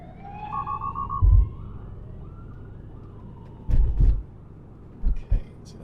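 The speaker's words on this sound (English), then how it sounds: "No, police car." A police car siren passes outside a Tesla Model 3 cabin as it drives in Australia, its rising and falling wail faint and distant beneath nearby thumps and a brief voice.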